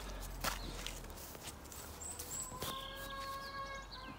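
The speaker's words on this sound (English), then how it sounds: "I can hear lots of birds in the garden today." Birds chirp and whistle faintly outdoors, with short calls scattered across a quiet garden and a few soft footstep-like knocks.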